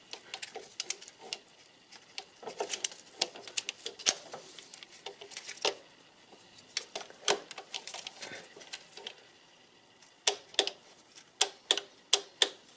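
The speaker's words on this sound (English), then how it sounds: "So that's my torque wrench and this little thing." A torque wrench tightening to 12 newton meters during EGR cleaning work gives many sharp, close clicks and ratcheting ticks in irregular bursts, clustering into quicker runs toward the end, with no talking.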